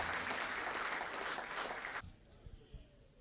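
An audience at an Indian embassy poetry evening in Kuwait applauds loudly and steadily as poet Umesh Sharma comes up to the microphone; the clapping stops abruptly after two seconds, leaving a few soft knocks and thumps.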